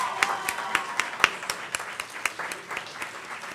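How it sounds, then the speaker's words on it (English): An audience applauds the Moot Court Society team at the valedictory session of a national moot court competition, a dense steady round of clapping with sharp individual claps standing out throughout. "give a big round of applause for the entire team of the Moot Court Society"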